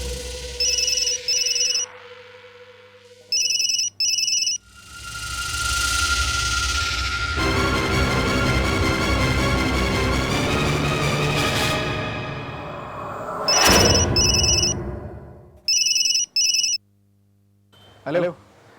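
An old-style telephone bell rings in short repeated bursts, with music swelling in between and a final ring burst near the end.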